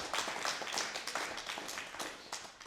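Audience applause at a Hindi comedy poetry gathering held for Holi, a burst of many hands clapping fairly close, fading slightly over a few seconds.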